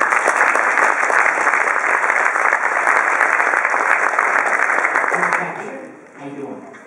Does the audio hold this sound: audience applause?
yes